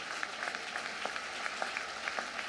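An audience applauds, a soft, steady patter of clapping that continues throughout with a few sharper claps standing out.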